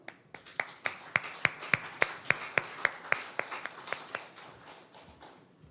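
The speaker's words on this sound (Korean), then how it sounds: "여러분 힘찬 박수로 맞이해 주십시오" Audience clapping in welcome at a youth forum in Ulsan, a run of sharp, fairly even claps building to a steady crest and then thinning out, with no talk over it.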